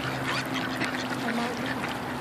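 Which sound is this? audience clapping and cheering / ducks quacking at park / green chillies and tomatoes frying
ducks quacking at park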